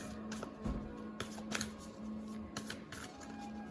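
Tarot cards being shuffled by hand, a run of soft, papery riffling bursts close to the mic, with a steady low hum running beneath them.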